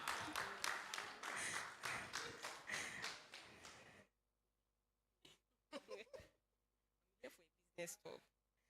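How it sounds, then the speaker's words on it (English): Audience clapping for a speaker at a business talk, a dense burst of many hands for about four seconds, then silence broken by a few scattered short claps and sounds. "Please, let's clap for her."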